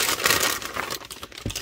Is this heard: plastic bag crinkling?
yes